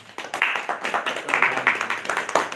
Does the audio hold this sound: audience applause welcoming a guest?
yes